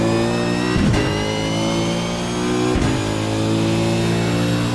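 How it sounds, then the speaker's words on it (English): A car accelerates hard on the Road Atlanta race circuit, its engine droning loudly and close with a rising, sustained roar, broken by two brief gear-change dips. "make sure the car is straight, and then start applying throttle"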